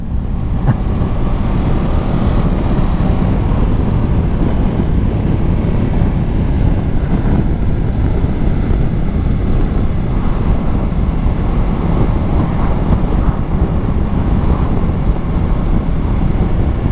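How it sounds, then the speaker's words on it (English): 2019 Ducati Multistrada 950S engine while riding in fourth gear, a loud steady drone under heavy wind rush and road noise, with no talking. "This engine's got so much grunt, you can just ride it around in fourth."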